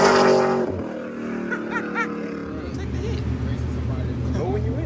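Fast Camaro accelerating at a drag strip test-and-tune at No Problem Raceway, a distant rising engine roar and rumble building steadily beneath excited talk from nearby spectators.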